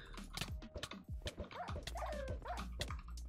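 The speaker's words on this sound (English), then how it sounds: "So he's just got 4 dogs around him." Several dogs in a Minecraft UHC video game whimper, yip and bark in quick overlapping bursts, fairly close and lively, with no talking.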